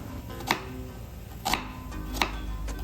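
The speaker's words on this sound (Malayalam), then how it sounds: "ഉള്ളി എടുത്തിട്ട് നല്ലോണം ചോപ്പ് ചെയ്യാം" A knife chops onions on a board for mutton biryani, giving four crisp, evenly spaced strokes close up over a quiet kitchen background.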